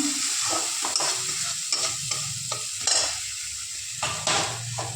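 Chili powder sautéing in a pan while a spoon stirs it, a frying sizzle broken by repeated scraping strokes and light clinks of utensil on metal, close and fairly quiet, with no talk.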